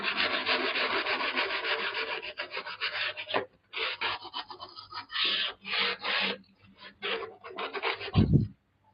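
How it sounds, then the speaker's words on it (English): Hand sanding back a wooden edge before capping, long rasping rubbing strokes, continuous at first, then broken into short rhythmic passes with brief gaps, close and loud. "Sometimes it takes a little bit of rubbing."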